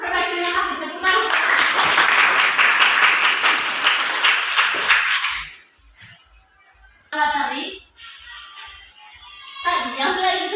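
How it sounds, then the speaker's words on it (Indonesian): Schoolchildren in a junior high classroom break into loud, dense clapping for about five seconds. It then drops away, and a teacher's voice and some classroom chatter follow. "Tepuk tangan."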